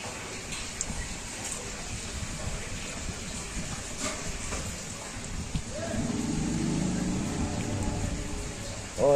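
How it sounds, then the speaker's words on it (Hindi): Light rain falls in Rajasthan just before a storm, a steady close hiss of drops that thickens and deepens in the last few seconds. "तो तूफान आने से पहले जो हल्की बारिश हो रही है वो हो रही है।"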